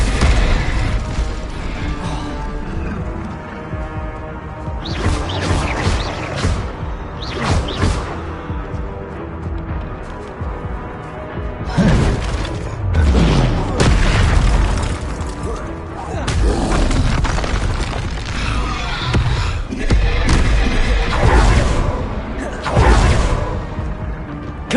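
Repeated Confringo and Incendio spell blasts in the Hogwarts Legacy video game, a dense, loud continuous wash of whooshes, booms and mechanical clatter with bursts rising and falling throughout the combat.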